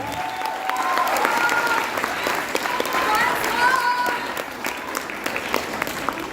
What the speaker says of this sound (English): can we request the parents to give a round of applause strong enough to call the audience?